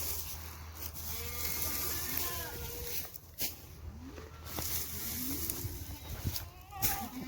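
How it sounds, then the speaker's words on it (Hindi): Sheep bleating in a village livestock pen, several wavering calls scattered over steady background noise with some shuffling movement. "ये जो है ना भेड़, इसने बहुत तंग किया हुआ है।"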